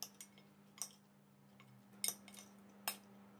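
Raw prawns being mixed by hand with garlic powder, white pepper powder and garam masala in a bowl, marked by a few sparse, light clinks of utensil on dish over a faint steady hum in a quiet kitchen.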